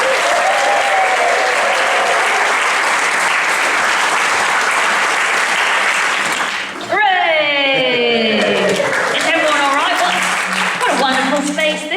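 A stand-up comedy audience gives loud, dense applause and cheers to welcome a comedian on stage. The clapping is sustained for several seconds, then a voice starts talking over the fading applause.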